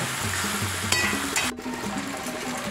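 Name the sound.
chicken being stir-fried in pan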